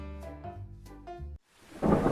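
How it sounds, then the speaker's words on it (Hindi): Cartoon rain and a thunder crack in a forest setting: tonal music gives way to a sharp rumble that builds into a loud, steady downpour hiss, with no voices. "बारिशें थी कि रुकने का नाम ही नहीं ले रही थी"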